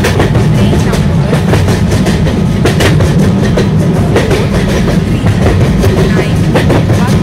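A Vande Bharat Express train departs past a platform in India, loud and steady, with rhythmic clickety-clack of wheels over rail joints layered over a heavy rumble.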